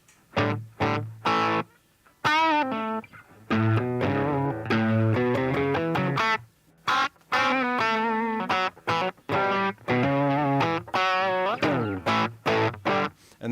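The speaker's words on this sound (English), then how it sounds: "that's with the distortion on." An electric guitar plays a country-style tone with distortion switched on, in quick phrases of picked notes and chords broken by brief pauses, close and full with no voices.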